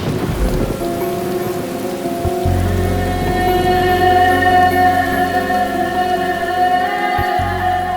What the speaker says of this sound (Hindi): एक तो बारिश भी बहुत ज्यादा है